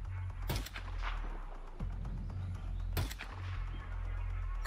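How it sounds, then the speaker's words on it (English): Gunfire in the Hitman 2 video game comes as a few sharp, distant-sounding shots over a steady low rumble, separated by gaps of a second or more. "Is someone shooting at me?"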